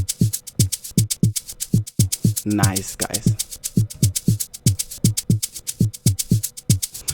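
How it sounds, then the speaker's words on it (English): A second 808 kick pattern in an FL Studio 3-step beat thumps in a steady, evenly spaced rhythm of deep punchy hits, loud and close, with someone briefly talking over it midway. "And then this is my second 808 kick over here"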